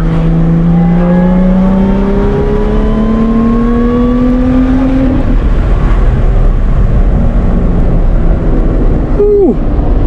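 A 2021 Lotus Evora GT's engine pulls hard under heavy acceleration, its loud rising drone climbing steadily for about five seconds, easing off, then wind and road roar as a voice briefly exclaims near the end.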